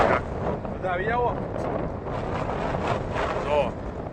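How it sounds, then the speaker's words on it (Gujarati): Strong wind at Suvali Beach buffets the microphone with a loud, constant rumble while people talk over it. "બહુ પવન આવે છે."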